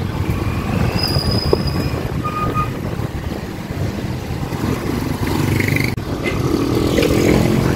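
A train rumbles past in Calamba, Laguna, with a heavy, continuous roar, wheels occasionally squealing in thin high whines over the steady clatter.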